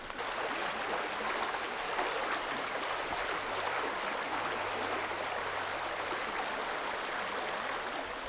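A river flows steadily in the outdoors, a continuous broadband rush of moving water that stays even and fairly close throughout, with no voices over it.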